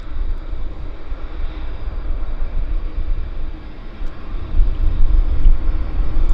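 An Airbus A319 rolls along a taxiway at Vancouver airport just after landing, its engines giving a steady, broad low rumble that swells slightly toward the end, heard from outside without voices.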